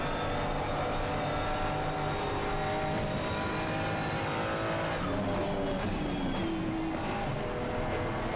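A McLaren Artura races at Kyalami in a racing video game on worn, overpressured tires: a loud, steady engine drone runs throughout while the tires slide and squeal, with pitch sweeps and shifts as the car slips.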